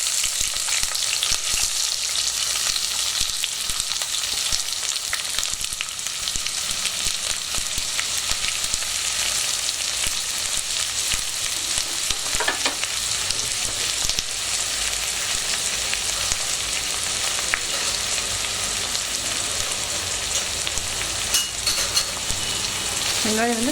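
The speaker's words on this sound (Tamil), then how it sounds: "வெங்காயம் வந்து நல்லா வதக்கணும்" Onions sautéing in oil in a pan for chicken biryani, a continuous dense sizzle and crackle held steady throughout, close and even, with occasional faint utensil clinks and no speech.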